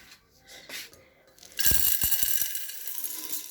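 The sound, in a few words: manual grinding machine grinding corn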